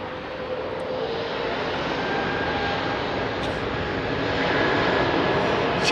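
At Heathrow at night, a DHL Airbus A330 jet produces a loud, continuous engine roar that swells slightly toward the end, with faint tonal whines riding over the broadband rumble and no talking.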